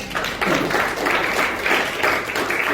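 A church congregation at an Indonesian sermon applauds, moderately loud with a pulsing, partly rhythmic clapping pattern that stays steady throughout.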